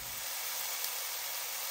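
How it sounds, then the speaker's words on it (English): Bacon frying in a pan gives a steady, even sizzle and hiss, close and moderately loud, with no talk over it. "Bacon is frying away."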